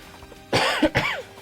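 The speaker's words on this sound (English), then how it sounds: "Sorry for the coughing, everyone." A couple of harsh, wet coughs close up, the second breaking into a throaty rasp, heard alone against a faint hum.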